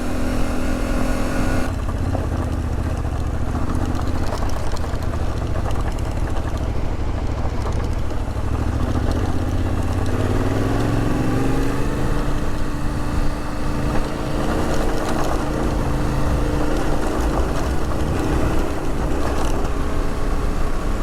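A Yamaha Tenere 700 motorcycle engine drones loudly and continuously while riding on a loose, steep dirt road, the pitch rising and shifting as the bike accelerates, with constant wind rush.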